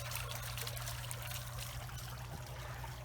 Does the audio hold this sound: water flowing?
yes